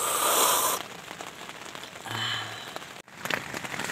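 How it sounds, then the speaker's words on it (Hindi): Heavy rain drums and patters on the fabric of a camping tent, loud at first and then easing into scattered, uneven drops. "बाहर इतनी बारिश हो रही है"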